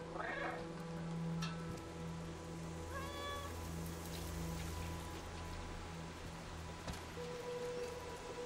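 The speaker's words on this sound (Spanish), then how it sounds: "Van maullando todo." A cat meows in the Stray video game, giving a couple of short, soft calls at a distance over a quiet, steady patter of rain.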